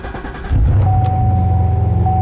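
A C7 Corvette with a low battery cranks briefly and then fires up, settling into a deep, loud, steady idle rumble close by.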